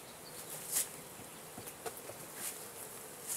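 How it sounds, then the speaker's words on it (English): Honey bees buzzing faintly around an opened hive while it is being split, a thin steady hum with a few brief louder passes of bees flying close, no talk. "These guys aren't too upset yet. They're good bees, actually."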